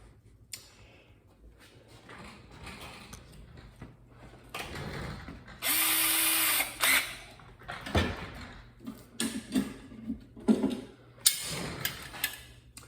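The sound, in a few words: pre-drilling holes with a 1/8 inch drill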